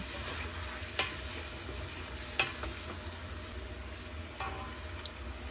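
Onion sautéing in a pan gives a faint, soft sizzle with a few light clicks of stirring, quiet and steady with no voices.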